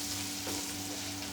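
Spices sizzling in hot oil for a phodni tempering for poha chivda, a brief steady hiss of frying close by, with no speech.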